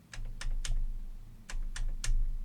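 Soft keyboard typing clicks, picked up by a Fifine K688 microphone, come in two quick bursts of three, fairly faint and close, with a low hum underneath.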